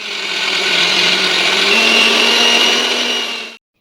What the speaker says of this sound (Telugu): కొబ్బరి మిక్సీ పట్టడం అయిపోయిన తర్వాత ముందుగానే వేపించుకుని పక్కన పెట్టుకున్న వేరుశనగలు కూడా దీంట్లో అయితే వేసేసి వాటిని కూడా అయితే మిక్సీ పట్టేశాను